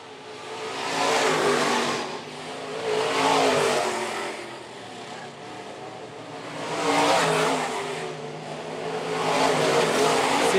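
Modified race cars roar around a dirt oval at Phillips County Raceway in a feature race, engines rising and falling in repeated waves as the field passes, steady and loud with no talk.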